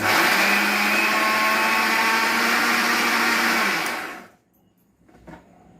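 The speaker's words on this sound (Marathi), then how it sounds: "हे मिक्सरमध्ये बारीक करून घेते" A mixer grinder coarsely grinds grated coconut with a loud, steady motor whine and churning for about four seconds, then cuts off, leaving near silence and a faint knock.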